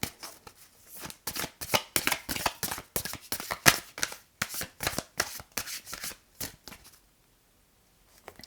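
Tarot cards shuffled by hand, a rapid run of crisp riffling bursts close up for about seven seconds, then falling silent, with no voices.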